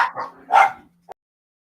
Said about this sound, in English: Every time we talk about John Fisher, these dogs are nuts.